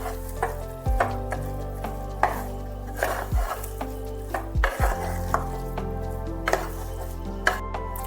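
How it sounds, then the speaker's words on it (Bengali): Daliya mixed with vegetables and makhana stirred in a pan, a low sizzle under repeated spatula knocks and scrapes against the metal, some heavier thuds, close and steady with no voices. "ভালোভাবে আনাজপাতির সাথে মিশিয়ে নিতে হবে।"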